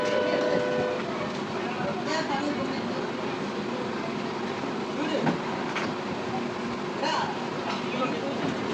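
A toy train on a seaside ride pulls away with a steady, continuous rumble of wheels and carriages, with faint clacking at intervals. Voices can be heard talking over the noise throughout.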